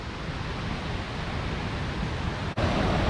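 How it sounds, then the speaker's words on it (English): A waterfall in Luang Prabang, heard at its lower pool, gives a dense steady rushing roar that fills the scene evenly, with a brief dip near the end and no voices. "This is the lower part of the waterfall."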